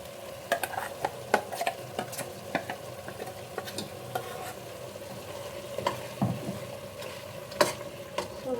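A spoon scrapes and taps repeatedly against a pan in an uneven rhythm while masala for mutton curry sizzles softly underneath, close and clear.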